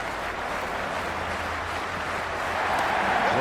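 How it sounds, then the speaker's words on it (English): A stadium crowd in the cricket video game Cricket 26 roars and applauds before play begins, a dense steady wash of cheering that swells slightly louder toward the end, with no clear speech over it. "We're about to get underway and already the crowd is up and about."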